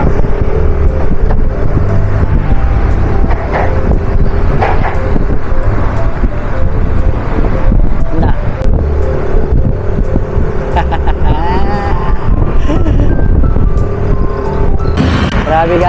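Dense, loud street traffic in the Philippines during a motorcycle ride: constant engine rumble and road roar with scattered beeps and horns, close and unbroken throughout, with some voices mixed in.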